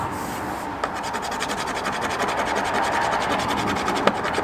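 Continuous close-up rubbing and scraping of Dulux Diamond Satinwood paint being scraped off a surface, a steady abrasive texture with a couple of sharper scratches, loud and alone.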